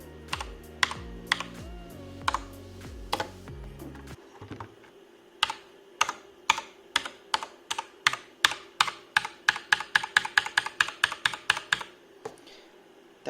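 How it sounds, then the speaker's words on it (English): Cosmic Byte CB GK 16 mechanical keyboard with Outemu blue switches: a run of sharp, loud clicky keystrokes, sparse at first and then quickening into a fast burst of hard-hammered presses, close up, over a faint steady hum. "That sound occurs when you smash the keyboard really hard,"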